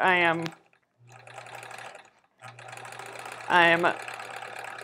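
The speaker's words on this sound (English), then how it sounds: "actually sewing 2 squares together so they can become a half squared triangle later." A sewing machine stitches two fabric squares together for quilt half-square triangles, running in short, near humming bursts with a brief pause between them, while a person speaks at the start and again later.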